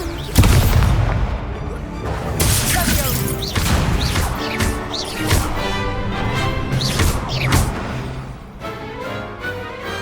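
Repeated Expulso explosion spells in a Hogwarts Legacy duel: loud booming blasts and crashes in quick succession over a busy game soundtrack, with voices calling out between bursts.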